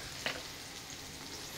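Chili powder, coriander powder and spices frying in a pan for a chicken curry, a soft steady sizzle with one brief scrape of stirring near the start, no voices.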